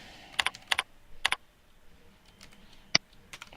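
Quick, faint keystrokes on a computer keyboard come in small clusters with short quiet gaps between them, as a name is entered into a statistics database form.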